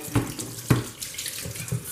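Salmon brine water poured off into a sink, a steady watery splash with a few louder gushes at the start and middle, fairly close and alone.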